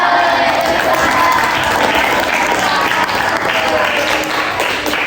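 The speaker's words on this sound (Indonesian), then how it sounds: "Kasih aplaus." Audience applause after a group presentation in a training session, steady dense clapping from a crowd that stays loud and continuous throughout.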